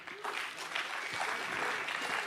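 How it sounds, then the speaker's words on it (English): A conference audience gives a round of applause during a closing ceremony on the main stage of a blockchain event, steady clapping that sounds fairly distant and quiet. "If you can give him a huge clap, round of applause."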